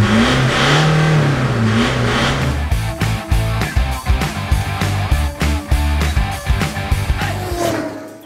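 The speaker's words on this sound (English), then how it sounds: "Now we have a true free-flow exhaust, all stainless steel and 3-inch in diameter." A car engine revs through a free-flow, all-stainless-steel 3-inch exhaust, a smooth drone first, then a run of sharp, rapid throttle blips that crackle loudly and close by.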